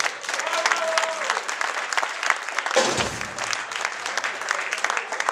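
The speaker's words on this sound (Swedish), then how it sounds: "en stor applåd" Audience applause at a concert as a substitute drummer is introduced: dense, steady clapping from a crowd fills the whole stretch, with a brief voice or instrument tone near the start and a dip in the middle before the clapping carries on.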